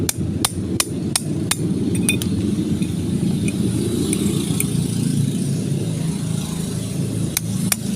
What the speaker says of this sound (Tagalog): Basta ako pupukpukin ko dito, papaluin ko dito. Paluin mo lang konti, dahan-dahan.